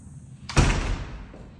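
Double front entrance door of a 2002-built luxury home in a guard-gated Summerlin, Las Vegas community closes with a single solid thud, followed by a brief fading rumble in a quiet hall.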